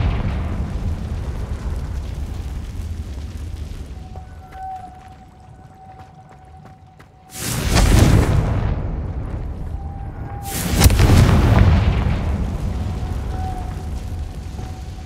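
Two loud broadband bursts from the Confringo fire spell in Hogwarts Legacy erupt in an underwater merpeople ruin, each a booming blast with a long roaring tail, set over a low ambient drone with a faint whale-like tone.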